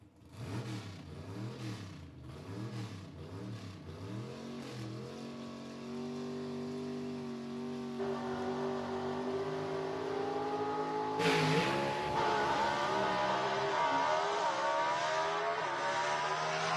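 Drag racing cars at a dragway launching and accelerating hard, engines climbing in pitch through rising gear pulls, then a second loud surge later, heard at a distance over a continuous roar.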